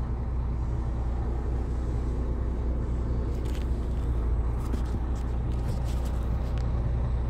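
Car-transporter truck pulling away and driving on a rainy day in Rennes, France, a steady low engine and road rumble with a few hissing bursts partway through, close and constant.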